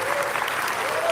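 Applause breaks out at a political hearing on the impeachment push against Vice President Sara Duterte, a steady wash of clapping from part of the room across the whole moment, with no voices over it.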